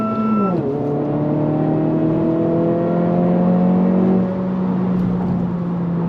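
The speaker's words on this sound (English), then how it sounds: "I'm not really loving this pumped in sound through the Bose system." Inside a 2025 Honda Civic Si, a synthesized engine note plays through the Bose speakers: a steady droning hum with a tonal whine that drops as the revs fall, then holds level, loud and close, and continues after a brief voice.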